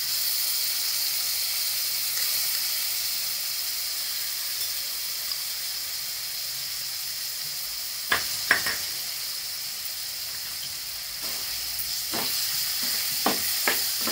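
Green chillies with yogurt for dahi mirchi cooking in a pan, giving a continuous loud hissing sizzle throughout, with a few brief scraping stirs of a spoon later on.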